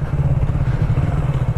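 Yamaha MT03 motorcycle engine held flat at 11,000 rpm near its top speed, a steady loud buzzing drone with rapid even pulsing and wind rush, no voices.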